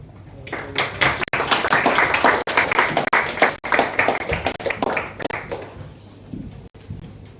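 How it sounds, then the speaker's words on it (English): Audience applause welcoming dignitaries to the dais at a youth parliament event at an engineering college, sustained fairly loud clapping for several seconds that thins and fades toward the end. "Let us welcome our dignitaries with a warm round of applause."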